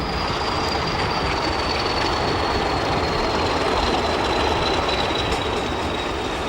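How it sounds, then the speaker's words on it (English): A southbound interregional train pulls into Sado station in Portugal with a steady, loud rumble of wheels on rail and a thin, drawn-out high wheel squeal running throughout. "The southbound train is normally the first to arrive."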